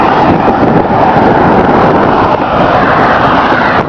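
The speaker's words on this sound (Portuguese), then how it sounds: "é um trecho onde o vento está soprando o contrário" Strong headwind roaring across a microphone on a roadside cycling route near Ceilândia with passing car traffic, a loud steady buffeting rush that fills the whole stretch with no speech.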